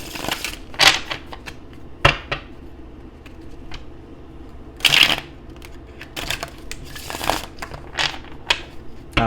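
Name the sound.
shuffling tarot cards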